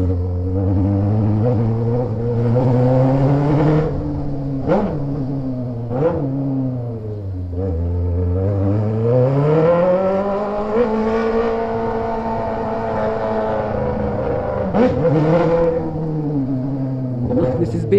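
Honda Hornet motorcycle engine revving up and down in a steady, loud drone with rising and falling pitch and a few sharp blips, close by.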